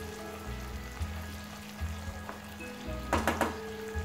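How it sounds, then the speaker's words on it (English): A masala curd mixture bubbling and sizzling in a pan on the stove, with a steady low simmer and a few brief clinks or stirring scrapes near the end, without talk. "So as you can see, it is boiling after I have given the beaten coat like this."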